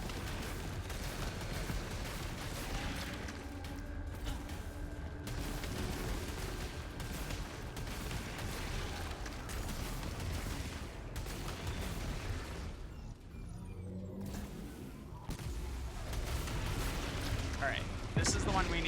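Weapon fire in the sci-fi shooter game Returnal, a dense continuous barrage of blasts and booming impacts filling the whole stretch at steady high loudness, with a brief lull near the middle before the shooting resumes.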